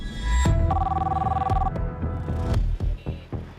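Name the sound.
telephone ringing during a phone call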